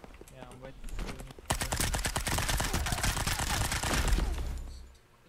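Gunfire in the video game Kiraverse: a rapid run of dense, crackling shots starts abruptly and goes on for several seconds, loud and close, then cuts off, with a voice faintly under it.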